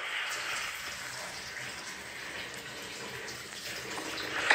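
Waterfall water in Minecraft makes a continuous bright rushing, splashing wash at a steady moderate level, with a slight rise at the very end.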